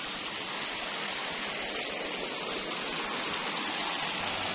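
Water runs steadily through a freshly cleared farm channel, a continuous, fairly close rushing flow with no break and no voices.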